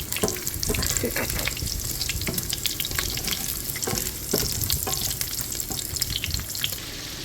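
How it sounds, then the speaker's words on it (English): Pork paprikash cooks in a pan with a steady, close sizzle and bubbling, broken by occasional louder stirring scrapes, with no talking. "now it's simmering"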